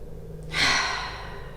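A single deep breath during a yoga session, a soft airy exhale that swells and fades over about a second, close to the listener with no talking.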